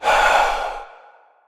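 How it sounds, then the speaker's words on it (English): A single long, breathy exhale, close and airy, starts strong and slowly fades out over about a second and a half. "Then I heard breathing."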